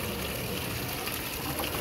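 Steady broadband rush of water pouring back into a tank during a water and vinegar flush of a Yamaha outboard engine, continuous and close, with a constant trickling wash and no voices.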